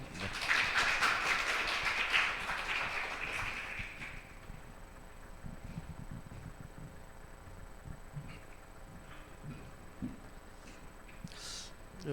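Brief audience clapping at a church New Year's Eve service, a burst of applause for the first few seconds that fades into a quiet room hum with faint scattered sounds.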